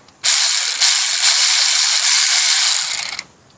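A Matco electric ratchet with an on-off trigger runs for about three seconds, a loud, close, high mechanical buzz that starts and stops abruptly.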